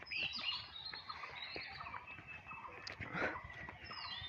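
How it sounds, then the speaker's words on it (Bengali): Birds chirp and call through a rainy-season morning in a village, with bright, overlapping tweets and warbles that stay steady and close, while a soft rustling ambience sits underneath. "পাখির আওয়াজ"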